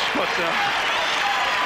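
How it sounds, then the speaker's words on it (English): Basketball crowd cheering and applauding in an arena as the Detroit Pistons leave the court near the end of a Chicago Bulls playoff game, a dense steady roar throughout with a voice talking over it. "I think the crowd is cheering here for the Bulls right now and the Pistons as they leave the court"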